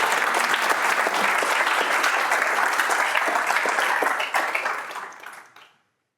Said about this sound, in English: I think that deserves an applause for Jérémy